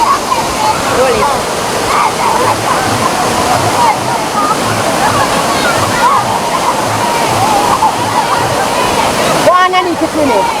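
Waterfall at Dunn's River Falls, a steady loud rush of churning water that fills the whole clip, with people talking and calling out nearby over the roar.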